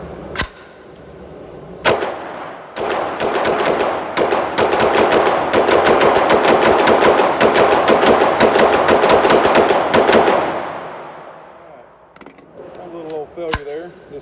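Rapid bursts of loud, close 9mm gunfire from a Tiger Rock upper fitted with a PSA red dot, a couple of single shots then a long sustained string of fast shots that stops abruptly, followed by a few more isolated shots.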